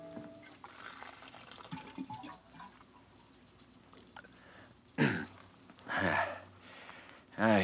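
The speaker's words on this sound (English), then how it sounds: "go over to the water cooler for a drink" Office water cooler in an old-time radio mystery drama, a soft lead-in followed by three separate bursts of gurgling, bubbling liquid, close and fairly loud, with pauses between them.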